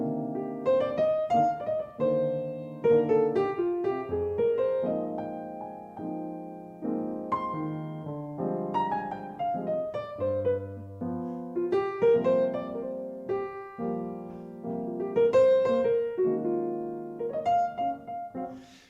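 A jazz instrument plays a tune without blues inflections, with flowing melodic lines and chordal accompaniment, clear and close, with no talking.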